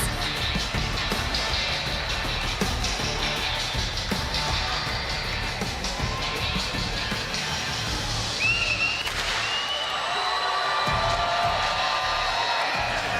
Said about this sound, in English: You hear the crowd. They've been cheering on EU all day